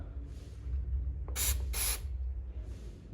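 Two short, close hissing bursts of chain clearance spray aimed at a chain, separated by a brief pause, over a low background rumble.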